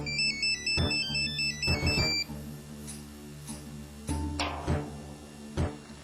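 A mobile phone rings for an incoming call, with a bright melodic ringtone phrase followed by repeated sharp electronic beeps at a steady pace, moderately loud and with no one talking.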